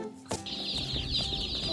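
New young chicks give a steady run of high, thin peeps that carry through most of the moment, loud and close, opened by a brief handling thump.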